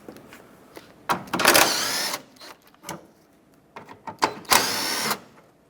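A 10mm socket spinning out bolts on a 2003-2021 Express 3500 van, with two longer whirring bursts of a powered ratchet alongside scattered shorter buzzes and clicks.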